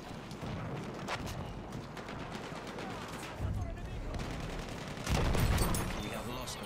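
Dense gunfire and explosions from a Battlefield 1 match on Empire's Edge, a steady busy battle din with louder bursts near the end, under which a player talks.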